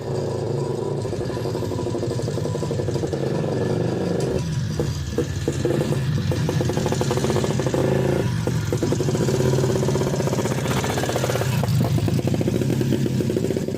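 Izh Planeta motorcycle engine with a carburetor running at low revs, a steady loud close-up drone with a rough clattering pulse throughout, no voices.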